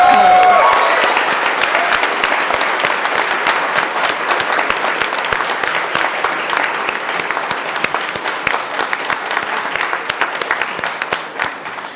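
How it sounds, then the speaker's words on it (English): Applause and cheering from an audience at a Three Minute Thesis finals event, a dense, steady wash of clapping that fills the hall for the whole stretch, loud at first and tapering slightly. "So let's do a preemptive cheer for him when that comes."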